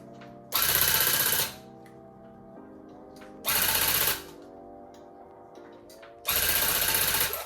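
A handheld tufting gun fills in a custom rug with red yarn, firing in three loud, even buzzing bursts of about a second each, with quieter pauses between them.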